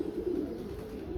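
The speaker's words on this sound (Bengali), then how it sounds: "এই যে কবুতরটা" Pigeon cooing softly and steadily, a low continuous throaty murmur that runs unbroken with no voices over it.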